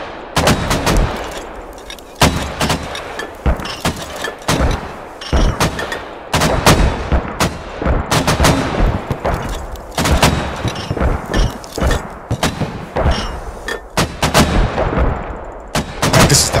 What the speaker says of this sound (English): Mortars are hitting over here.